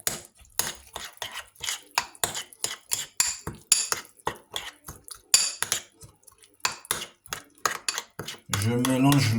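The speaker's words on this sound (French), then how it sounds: "Je mélange le tout." A home cook mixes frozen escalope ingredients in a pan, utensil scraping and clinking against the pan in quick repeated strokes, close and fairly quiet, with a brief louder rush at the end.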